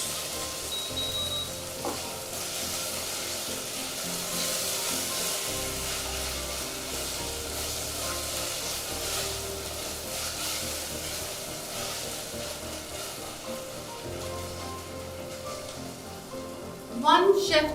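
Ginger garlic paste sizzles and crackles in hot oil while being stirred for biryani. The frying noise is steady and close, and a brief clatter comes near the end.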